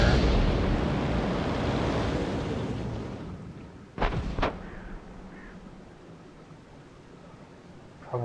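World of Tanks cannon fire, a sharp loud shot with a quick second crack around the middle, after a fading rumbling roar of battle noise, followed by quieter ambience and a faint thump at the end.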